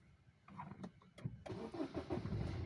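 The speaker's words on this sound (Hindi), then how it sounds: "देखिए अभी मैं सेल मारूंगा" A Maruti Suzuki Baleno being cranked on its starter after a starting fault: a brief whirring crank, then the engine catches and settles into a steady idle, heard close up with no talking.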